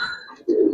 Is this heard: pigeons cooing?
yes